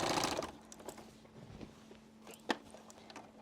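A sewing machine stitching through thick quilt layers gives a short, quiet burst of whirring at the start, then trails off into faint clicks and soft handling sounds.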